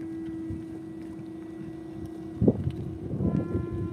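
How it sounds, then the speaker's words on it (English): Conch horns are blown in a harbor at sunset, a long steady low note sounding throughout with a faint higher tone, set against wind rumble and soft water and boat noise. "People are blowing the conch horn here."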